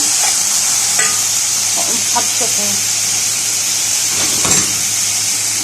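Frozen okra fries in a pot for a meat tagine, giving a loud, constant hissing sizzle up close, with occasional scraping stirs breaking through.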